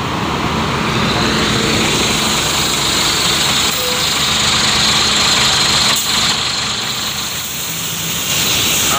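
A Scania bus engine idles steadily and loudly up close, a continuous low rumble with no voices over it.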